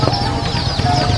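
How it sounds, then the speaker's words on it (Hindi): A hen clucks at a busy Sunday bird market, a quick run of close, loud clucks over a crowded background hum. "वो किसी की मुर्गी निकल के आ गई है"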